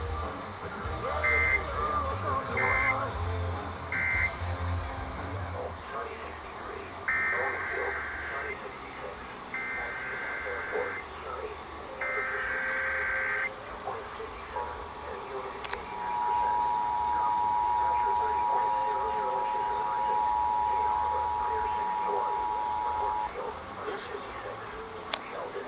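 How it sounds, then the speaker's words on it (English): Emergency Alert System monthly test tones on AM/FM radio from Island County, a run of short, loud, repeated attention bursts followed by a long steady tone, with broadcast noise underneath. "The following tones will conclude this test."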